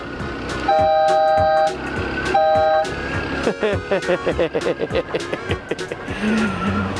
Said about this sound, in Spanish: Le puse una bocina de camión, aparte de la que tengo.